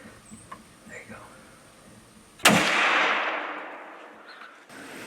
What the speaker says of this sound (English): So when the second bear gave him a good, clean shot, he took it.